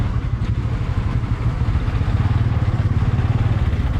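A TVS Apache-style N160 motorcycle cruising down a clear road, its engine a steady, loud, close low rumble with a fast regular pulse and continuous wind and road noise.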